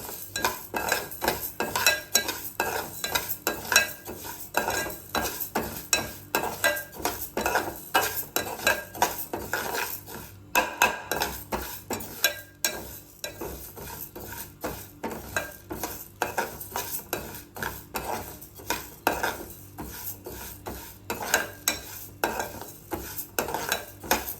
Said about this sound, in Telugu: పెసరపప్పు దోరగా వేయించుకోవాలి.